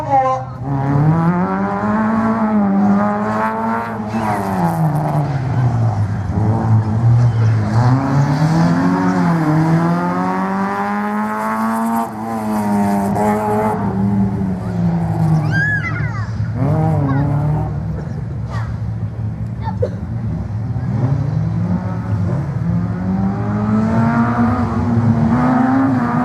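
Race car running a slalom course at Agon-Coutainville, its engine rising and falling in pitch through repeated acceleration and lifts. It stays fairly loud and near throughout, with tires squealing briefly and a commentator speaking over it.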